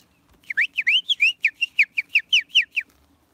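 A bird calls outdoors near a farm, giving a quick run of about fifteen sharp, bright whistled notes in a steady rhythm, clear and fairly close, with no other sound around.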